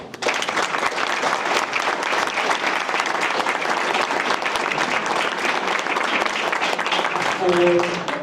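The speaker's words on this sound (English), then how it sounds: "Give yourself an applause." Sustained applause from an evening audience at a city council and mayoral candidate forum held in a place of worship, dense steady clapping filling the room throughout with a brief tone near the end.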